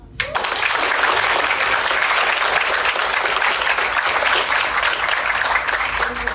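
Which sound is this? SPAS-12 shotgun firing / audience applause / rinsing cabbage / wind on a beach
audience applause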